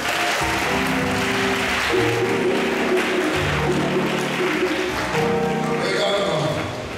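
A congregation at a healing service in Bouaflé, Côte d'Ivoire, breaks into loud, steady applause and cheering that fills the hall for several seconds, with voices and music mixed in.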